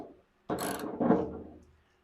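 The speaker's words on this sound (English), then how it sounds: "you can use this little ratchet right here." Small ratchet wrench working on a 1967 Ford Falcon, two brief bursts of close mechanical clicking and scraping in a short sequence, with no talk.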